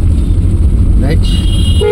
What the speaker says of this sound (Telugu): హార్న్ హార్న్ హార్న్ కొడుతూనే ఉండాలి